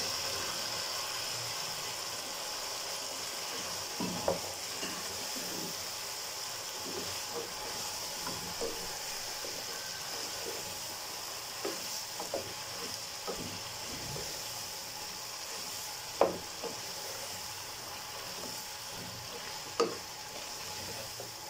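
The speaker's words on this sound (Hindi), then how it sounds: "अब हम मसाले के साथ कद्दू को भूनेंगे।" One kilogram of pumpkin fries in oil with spices in a pan, a constant loud sizzle with occasional scraping stir strokes of a spoon, close and steady, no talking.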